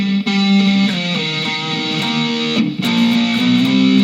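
An electric guitar slowly plays a distorted power-chord riff, chords changing every half second or so with a brief break midway, loud and up close.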